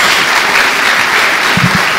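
A church congregation breaks into loud, dense applause in praise of Jesus, a continuous wash of clapping filling the space for about two seconds, with no voices on top of it.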